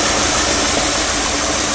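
A 1959 Mercury Monterey V8, not yet fully warmed up, idles slightly high with a loud, steady, even rumble close to the mic.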